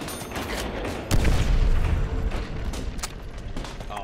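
A grenade is thrown and goes off in Call of Duty: World at War Nazi Zombies, a sudden low boom about a second in with a rumbling tail, set among game mechanism clatter and creaks.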